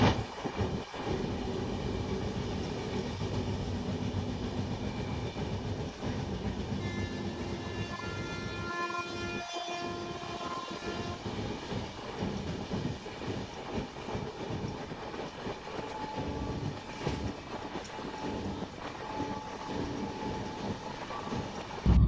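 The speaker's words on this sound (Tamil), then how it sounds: "திடீர்னு குறுக்க இந்த ட்ரெயின் வந்ததுங்க." A train rumbles past close by, a continuous loud roar with rhythmic clatter of the cars on the rails throughout.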